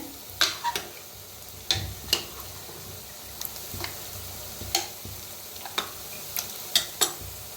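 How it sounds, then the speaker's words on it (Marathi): Onions fry under a faint sizzle while a spatula scrapes and clicks against the pan in irregular, repeated strokes. "कांदा बी आपला चांगला भाजायला लागलाय"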